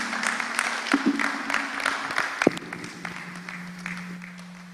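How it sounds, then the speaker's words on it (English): Applause from an audience at a college alumni homecoming event, a steady patter of many hands clapping in a room, moderately loud at first and then gradually thinning out, with a low hum underneath. "A round of applause for Mr."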